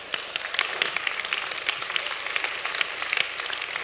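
An audience at a health and longevity leadership event claps in a lively, dense burst, many hands overlapping with crisp individual claps standing out, fairly loud and steady throughout.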